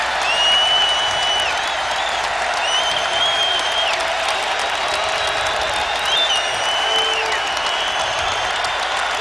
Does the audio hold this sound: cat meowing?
no